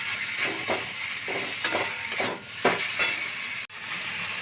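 Mutton pieces frying with salt over lowered heat while being stirred, a steady broad sizzle broken by repeated scraping strokes of the spoon, close and continuous with no voices.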